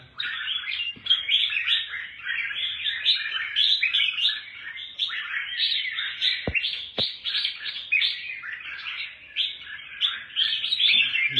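Lively songbird chirping in a backyard bird-keeping setting, dense overlapping high twittering and trills running continuously from start to finish, close and fairly loud, with no talk over it.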